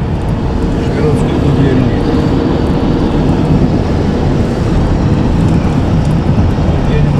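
A car drives fast along a rural road in the Nizhny Novgorod region, giving a loud, steady, unbroken rumble of engine, tyres and wind noise from inside the vehicle.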